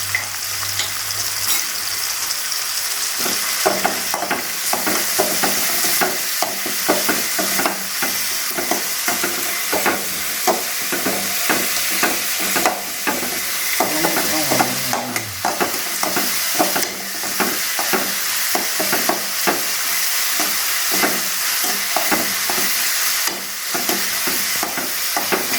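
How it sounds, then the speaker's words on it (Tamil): Ginger garlic paste sizzles and fries steadily in a pan for mutton curry, with repeated scraping stir strokes throughout and no talking. "அதோட இஞ்சி பூண்டு விழுதோடு சேர்த்துக்கிறோம்."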